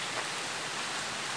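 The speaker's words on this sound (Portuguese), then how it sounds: "Está chovendo fortemente aqui" Heavy rain falling steadily in a small town in the western Bahia backcountry, a dense, even hiss of downpour that holds constant and alone, with no voices over it.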